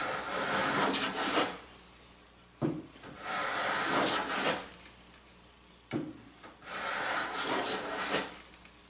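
Wood being hand planed while building a jewelry case, with three long rasping strokes of the plane shaving across the board, each starting with a sharp bite and separated by short pauses.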